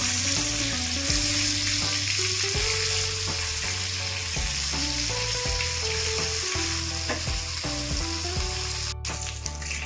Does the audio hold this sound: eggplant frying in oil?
yes